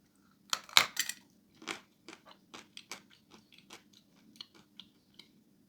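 A large chunk of edible chalk is bitten with a sharp, loud crunch, followed by a run of close, dry chewing crunches that grow fainter and more spaced out, with no talking.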